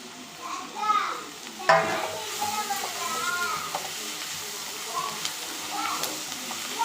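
Mushroom gravy ingredients with rock salt and a chilli frying and being stirred in a pan for a chapati kurma, a steady soft sizzle with occasional spatula scrapes, faint voices and a child's chatter in the background.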